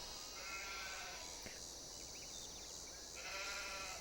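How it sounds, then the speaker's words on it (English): Sheep in Farming Simulator 22, set on an Alaskan map, bleat repeatedly in a steady rhythm over a constant ambient hum of game atmosphere, with no voices. "I'm just going to get 9 more, so I got the 20 sheep I want."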